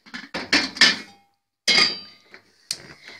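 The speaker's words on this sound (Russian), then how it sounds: "Сейчас я возьму вот такую вот кастрюльку маленькую. Вот такую. Поставлю ее на газ." A small saucepan is set down on a gas stove in a home kitchen, giving a few sharp metallic clanks and clinks in quick succession, then a pause and more knocks as it settles, close and clear.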